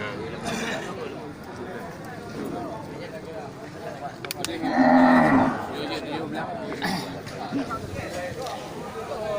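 Aceh bull cattle at a livestock market stall, one loud moo rising around the middle amid busy crowd chatter and background market noise.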